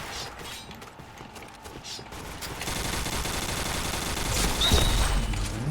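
Gunfire from the shooter game Point Blank rattles in rapid, mechanical bursts, quieter at first and then swelling into denser, louder automatic fire toward the end.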